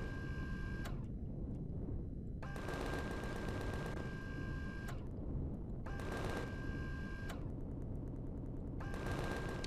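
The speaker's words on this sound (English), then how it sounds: "we'll shoot these guys real quick since they're gonna shoot us" Automatic gunfire in the sci-fi survival game Empyrion Galactic Survival, with three or four sustained bursts of rapid shots broken by short pauses over a steady background hum.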